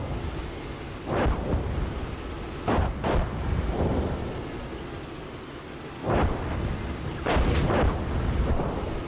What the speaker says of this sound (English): Drop some artillery, see if that helped any.